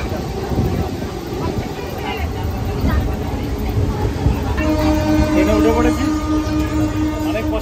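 A train arrives at a railway station, its rumbling wheels and clattering carriages loud and close, with tonal squeals and a horn-like tone rising in the second half over a crowded platform background.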